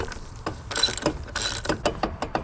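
Socket wrench ratcheting on a Harley Davidson part thought to be reverse thread, a series of close clicking ratchet bursts in quick strokes with brief pauses, no voices.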